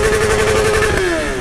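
A Honda CB1000 motorcycle revs up close and loud, its engine note sliding downward as the throttle drops off, with crackling exhaust pops on the overrun.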